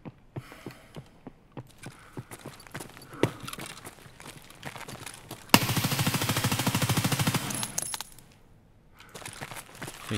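Escape From Tarkov gunfire: scattered single shots and clicks at first, then a loud sustained automatic burst of about three seconds, followed by a few faint scattered sounds.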